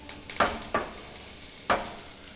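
Bread slices frying in butter in a pan, a steady soft sizzle broken by a few sharp crackling bursts, close and fairly quiet with no talk.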